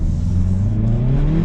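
Hyundai i30N with a 2-liter engine accelerating, a steady close engine drone whose pitch climbs smoothly as it pulls, heard from inside the car with no talk.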